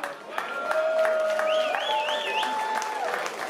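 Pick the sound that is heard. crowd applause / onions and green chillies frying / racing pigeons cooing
crowd applause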